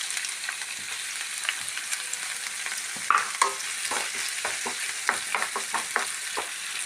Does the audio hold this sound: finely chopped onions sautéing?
yes